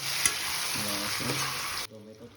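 Chicken gravy with a bay leaf and a dried chili sizzles in a pan as it is stirred, with a steady frying hiss and a few scraping strokes of the spoon, close and clear.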